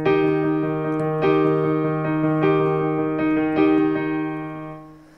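Piano accompaniment for a song, sustained chords restruck in a steady rhythm every second or so, clear and close, fading away at the end with no talking.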